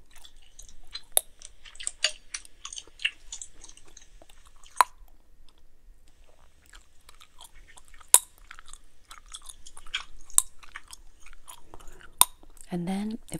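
Gum is chewed close to the microphone: sparse, soft, wet clicks and smacks, with occasional sharper pops, over near silence.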